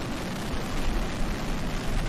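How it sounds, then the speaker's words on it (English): A San Diego fireworks display with every shell firing at once makes a dense, continuous roar of crackling bursts and booms, loud and steady throughout with no voices. "every single firework went off at the same time"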